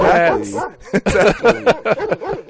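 A person's voice imitates a pit bull barking, with a string of short, yappy bark-like bursts and whimpering tones, loud and close, mixed with talking.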